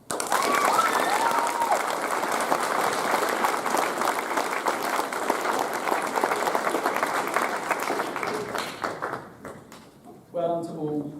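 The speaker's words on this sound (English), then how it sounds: "but a round of applause" An audience applauds an absent award winner at a school Year 9 prize giving. The clapping is dense and sustained for about ten seconds, then thins out as a voice begins speaking over its tail.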